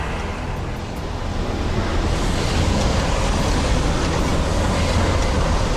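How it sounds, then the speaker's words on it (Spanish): Water rushing through the canals of a temple, a loud, steady, unbroken roar of flowing water with no voices, holding constant throughout. "el sonido del agua que va pasando por los canales"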